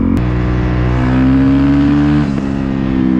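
A Honda CRF450L motorcycle fitted with an engine tuner revs up in first gear, its loud, close engine note climbing in pitch, then dropping briefly at a shift before pulling again. No one speaks.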